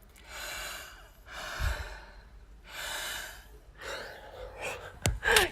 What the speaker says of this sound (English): Can you hear how loud my breathing is?